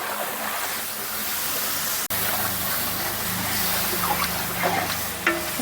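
Lemon pickle masala is stirred in a pan over heat, producing a continuous close hiss and sizzle with soft scraping of the spoon, steady throughout apart from one brief dropout, with no talk.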